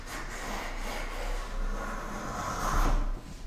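A hand plane drawn along the edge of a board in a woodworking shop, a steady rasping shave of wood that swells toward the end of the stroke, close and alone with no talk.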